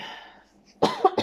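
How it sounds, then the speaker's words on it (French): A woman coughs close by, a quick pair of sharp coughs after a short quiet pause, with a fainter one following. "je crois que je vais tousser"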